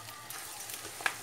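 Minced liver sautéing in a pan gives a soft, steady sizzle and crackle, with one brief sharper pop near the end of the short stretch; no voices.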